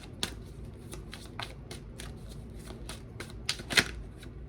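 A deck of cards is shuffled by hand and a single card is drawn, giving soft riffling and flicking with a few sharper snaps near the end, close and quiet with no talking.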